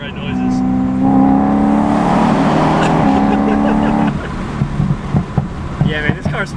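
A BMW M3 with the S65 V8 engine accelerating under load, a loud rising engine drone and rev that holds for several seconds before easing off, then subsiding into cabin noise as voices come in.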